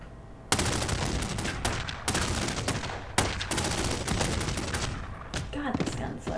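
Gunfire from The Godfather video game, dense rapid bursts of shots that fill the clip almost continuously, several sharp loud onsets among sustained fusillades, heard alone without speech.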